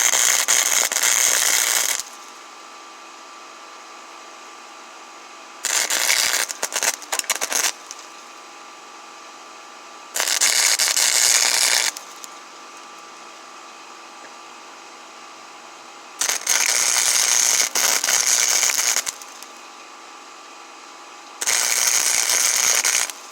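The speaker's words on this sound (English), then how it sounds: "Let's go ahead and tack our pieces." Steel fidget spinner pieces are tack welded in five separate crackling, buzzing bursts of about two seconds each, with quiet gaps between them.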